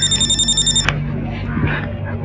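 A phone rings in fast repeated electronic trills, then is cut off abruptly, leaving a low room hum and faint movement.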